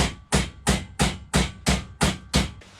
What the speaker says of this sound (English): we're going to straighten it with a hammer